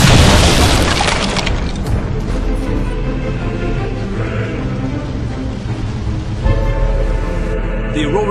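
Mortar explosions in the Fable III video game open with a loud, deep boom that rolls into a sustained rumble and layered battle noise, with a brief fresh blast late on.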